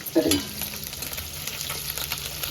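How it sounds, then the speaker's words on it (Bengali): Snakehead (shol) fish fries in hot oil in a wok with a steady, close sizzle. A brief clatter of stirring sounds at the start. "মাছটা উল্টে পাল্টে ভেজে নিয়েছি"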